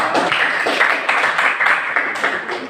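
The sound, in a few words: classroom applause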